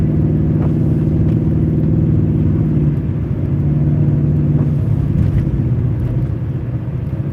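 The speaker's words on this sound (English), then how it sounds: "It snowed pretty good last night, so I figured I'd go live driving the BMW today." A BMW drives on a snowy road, heard as a steady low engine drone and road rumble from inside the car, loud and continuous with no voices.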